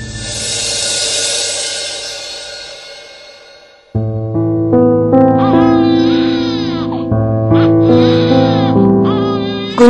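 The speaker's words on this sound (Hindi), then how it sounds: "बच्चे की रोने की आवाज नहीं सुनाई दे रही है तुमको?" An infant cries in a soap-opera domestic scene, wailing in long rising and falling bursts that start near and loud after a muffled opening stretch, with dramatic background music underneath.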